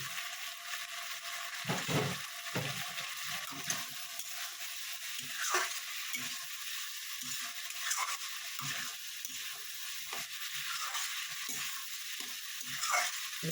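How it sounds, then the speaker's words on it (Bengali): Water spinach and prawns fry in a pan, a continuous soft sizzle broken by repeated scraping stirs every second or two, close and moderately quiet with no talk. "একটু ভালো মতন এটাকে কষাবো।"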